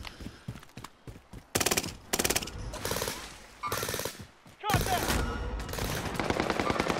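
Rapid automatic gunfire in the Warzone video game comes in loud, close bursts of chattering shots, broken by short pauses, then a longer sustained volley.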